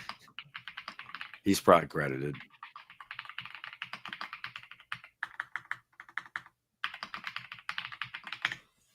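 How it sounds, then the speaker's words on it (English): Steady, fast typing on a computer keyboard clatters on in bursts, with a brief spoken remark near the start. "Typing away, y'all."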